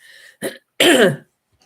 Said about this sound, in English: Obviously, clearing my throat.